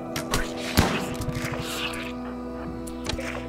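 Gunfire in the video game RimWorld: a few sharp, punchy shots stand out, with the strongest near the start and another near the end, over a steady hum and scattered softer impacts, with voices talking in the background.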